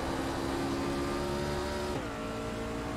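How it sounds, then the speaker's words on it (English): A race car in a sim racing video game holds a loud, steady engine drone, then the pitch drops sharply as it downshifts near the end. "And right here with Nate, yeah, he's downshifting too."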